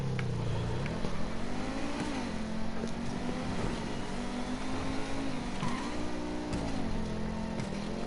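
Engine of the Osiris car in a video game, a steady mid-pitched drone that rises and falls with throttle changes, sustained and fairly close throughout with no talking.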